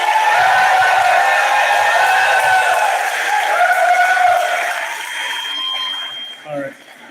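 Audience at a UCP leadership debate applauding a candidate, dense sustained clapping that gradually fades out, followed by a speaker's voice.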